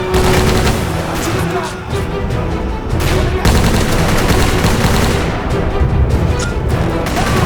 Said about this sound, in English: Yep, it's that easy to shoot people in this game.